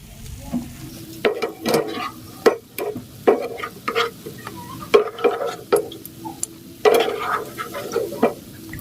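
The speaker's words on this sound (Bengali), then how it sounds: "কেকগুলোকে এবার আমি তেল থেকে তুলে নিচ্ছি।" Egg-based cakes frying in hot oil and being lifted out, with a steady sizzle broken by repeated scraping and clinking of a utensil against the pan.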